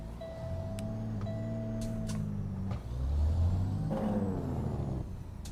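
A heavy truck engine in American Truck Simulator rumbles low and steady, then swells as it accelerates, with a brief hiss like an air brake and faint clicks and tones from the cab, with no one talking.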